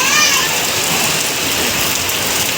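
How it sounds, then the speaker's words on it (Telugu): Heavy rain pours steadily onto open farmland and standing floodwater, a dense, even hiss that fills the whole moment with no letup; faint children's voices may sit far beneath it. "ఇక ఇట్లా కొడుతుంది చూడు ఇక వర్షం"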